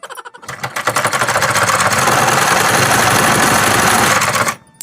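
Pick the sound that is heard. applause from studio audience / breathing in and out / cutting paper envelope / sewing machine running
sewing machine running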